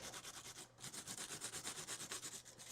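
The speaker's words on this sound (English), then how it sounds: "I can just run this right over my piece of cardstock" A take-your-pick craft tool rubbed back and forth over a sheet of cardstock, giving a steady rhythmic scratchy swish with one brief pause, close and soft, with no talking.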